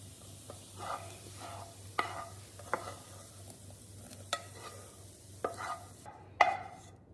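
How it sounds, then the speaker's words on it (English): A spoon knocks and scrapes through potato soup in a crockpot, with a handful of sharp clinks spaced irregularly over a faint steady background hum. "I'm just going to give that a quick stir"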